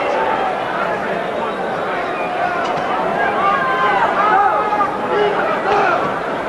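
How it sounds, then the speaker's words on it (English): A boxing arena crowd at a Camacho versus Trinidad fight booing a fighter's holding, a sustained, swelling roar of disapproval mixed with commentators talking over it. "And the crowd again will boo."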